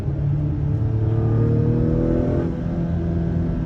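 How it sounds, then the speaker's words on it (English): A turbocharged 2022 Acura TLX A-Spec engine drones steadily and rises in pitch as it accelerates at partial throttle, a continuous close rumble with a faint turbo whir and no voices. "As soon as that boost kicks in, this vehicle really, really starts to move."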